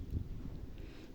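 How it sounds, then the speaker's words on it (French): Wind buffets an outdoor microphone on a sunny spring day. It makes a faint, low, steady rumble with no talk. "Je suis vraiment désolée pour ce vent qui n'arrête pas de souffler."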